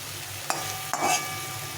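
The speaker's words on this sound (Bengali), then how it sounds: "এইভাবে কষিয়ে নিলে সবজির মধ্যে মশলাটা ঢুকে যায়" Potato and pointed gourd cooked down with spices in a pan, a brief low sizzle with two sharp scraping stirs of a spatula, close and without speech.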